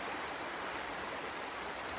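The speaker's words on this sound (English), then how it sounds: "We have officially made it to the creek." A creek flowing on a hike, making a steady, even rush of water that fills the scene with no breaks and no voices.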